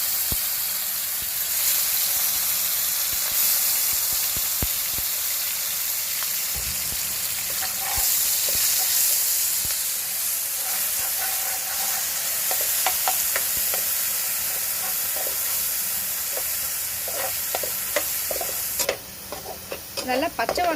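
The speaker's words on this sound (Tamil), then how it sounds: "அரைச்சி வச்சிருக்க விழுதையும் ஆட் பண்ணிக்கலாம்" Ground masala paste and curry leaves fry in hot oil after mustard seeds have popped, giving a steady loud sizzle with scattered crackles and stirring scrapes throughout, close up and without talk.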